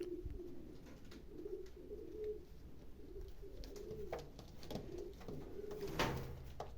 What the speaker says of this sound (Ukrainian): ось така голубушка